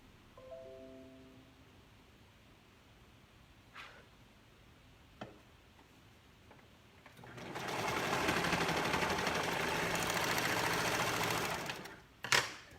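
Sewing machine stitching a gathered tank top, running steadily for about four seconds up close after a few quiet clicks, then stopping, with a sharp click at the end.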